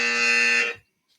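A quiz-show contestant's buzzer in a travel trivia round sounds one loud, steady electronic buzz lasting well over half a second, then cuts off sharply into silence.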